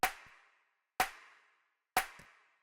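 A layered clap sample blending a hand clap with a rim shot strikes three times at even one-second intervals, each hit sharp and dry at first, then trailing off in a long reverb tail into silence.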